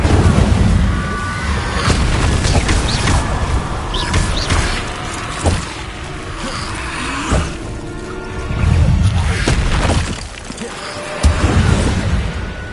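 Repeated Incendio fire spells cast in Hogwarts Legacy, a series of loud whooshing bursts and booming impacts amid combat clatter, several blasts spaced a few seconds apart.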